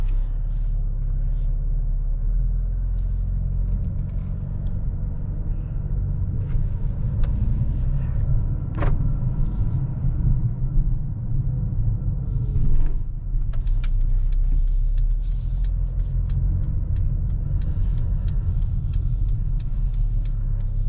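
A 2021 Mercedes-AMG GLA 35 SUV is driven at night in Sport Plus mode, heard from inside the cabin as a steady low engine and road rumble with slight swells and faint clicks over about twenty seconds.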